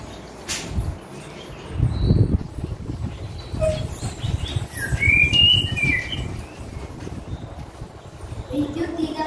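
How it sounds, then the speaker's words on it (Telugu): A large flock of birds chirps in scattered bursts over a busy outdoor background with a steady low rumble. "ఒకరోజు ఉదయం ఒక పెద్ద పక్షుల గుంపు వచ్చింది."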